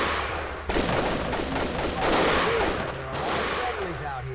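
Sustained gunfire from an enemy fortification in Delta Force rattles on continuously, with overlapping shots and a brief pause before the firing picks up again.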